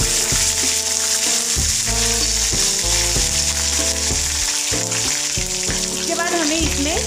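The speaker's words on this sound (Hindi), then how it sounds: "इसके बाद हम जीरा डालेंगे। जीरा थोड़ा सा हम सुनहरा होने देंगे।" Cumin seeds frying in hot oil for a cabbage sabji, giving a steady, close crackling sizzle that runs throughout beneath tonal background music.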